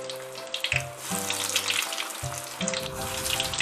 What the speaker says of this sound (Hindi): वड़े सुनहरे होने तक तलना।